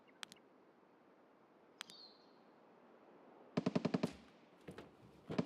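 Gunshots in a woodland shooter video game: a couple of isolated distant cracks early, then a rapid burst of sharp shots and a few more trailing ones, fairly faint overall with no talk.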